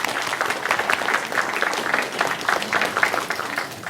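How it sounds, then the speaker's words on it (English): Audience applause after a song and dance performance at a Hong Kong gathering, a steady, moderately loud patter of many hands clapping that continues evenly throughout. "Let's give them another round of applause."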